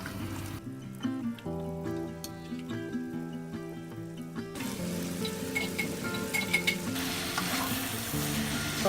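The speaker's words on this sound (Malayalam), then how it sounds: "സോയ ഇതിൽ നല്ലോണം മിക്സ് ആവട്ടെ. ഇതിന് കുറച്ച് നേരം ഇളക്കി കൊടുക്കണം. സിമ്മിൽ ഒന്ന് ഫ്രൈ ആവണം." Soya chunks fry and get stirred through a tomato masala in a pan, a steady close sizzle with repeated scraping and clinking of the spoon throughout, no voices.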